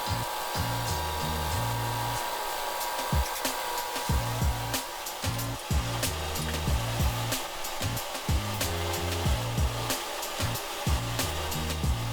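A power drill whirs loudly for a long stretch, drilling a bolt hole while repairing a Hustler Raptor mower's hydro bracket, its motor pulsing and stuttering as it speeds up and slows, with metallic clicks throughout.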